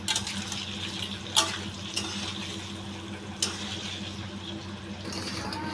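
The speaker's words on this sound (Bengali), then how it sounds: "ওই নুন জলটার মধ্যে আমি পনিরগুলোকে ভেজে ভেজে তুলে ওর মধ্যে দিয়ে দেবো।" Paneer pieces frying in a pan give a steady, close hissing sizzle throughout, broken by a few brief metallic clinks from utensils.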